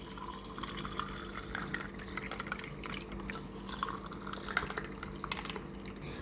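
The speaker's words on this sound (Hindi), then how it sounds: "अब इसमें ठंडा ठंडा बिल्कुल अच्छे पानी डालिए।" Cold water is poured into glasses while making fennel sherbet, a soft, trickling splash with light drips continuing over several seconds at low volume, with no talking.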